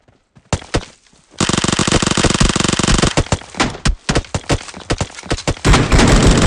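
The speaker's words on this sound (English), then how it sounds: "I'm getting shot!" Loud, close gunfire in the PUBG Mobile shooter game: a long sustained automatic burst followed by rapid overlapping shots and a final heavy volley, with brief gaps between bursts.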